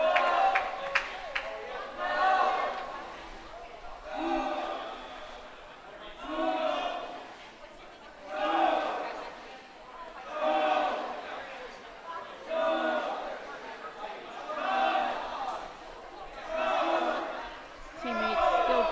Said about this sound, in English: Teammates still cheering for him at the other end